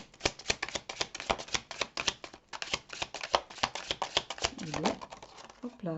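A tarot deck is cut and shuffled by hand on a table, giving a rapid series of crisp card snaps and riffles, close and fairly quiet, with a voice speaking briefly near the end.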